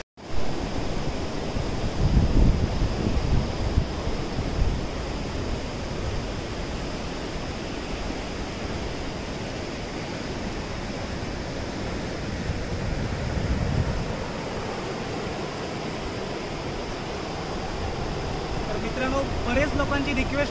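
Sea waves at Kondura beach near Vengurla, where a river meets the sea, make a steady broad roar of surf with occasional swells, close and continuous throughout.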